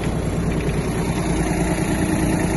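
A Kubota GT-21 Japanese mini tractor drives along in low gear with its rotary tiller running, giving a steady, continuous mid-pitched engine drone with churning mechanical noise and no voices.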